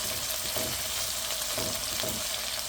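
Bitter gourd fries in a pan, a dense, loud continuous sizzle with occasional stirring scrapes throughout, no voices.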